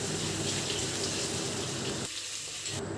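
Basmati rice is rinsed in water for mutton biryani: a steady, loud wash of running and sloshing water fills the whole stretch, dipping slightly near the end.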